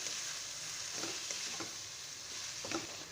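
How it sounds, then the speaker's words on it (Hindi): Minced keema fries in a pan with pickling spices, giving a steady, close sizzle that runs throughout, broken by a few soft scraping stirs. "अब इस कीमे को 2 से 3 मिनट मैं इसी तरह से भून लूँगी"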